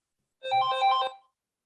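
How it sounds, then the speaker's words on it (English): An electronic phone ringtone trills once for under a second during a town board meeting, a bright burst of chiming tones, fairly close and clear with no talk over it. "I didn't hear it because the phone was ringing."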